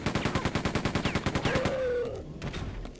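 Rapid automatic gunfire from a weapon in the video game Quake 2, a fast, even burst of about twenty loud shots, followed by a brief whooshing projectile sound and quieter scattered game noises.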